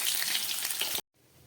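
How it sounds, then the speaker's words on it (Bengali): Catla fish head frying in hot oil gives a loud, dense sizzle for about a second, then cuts off abruptly, leaving faint low kitchen noise. "খুব ভালো করে কাতলা মাছের মাথাটা আমি ভেজে নিলাম।"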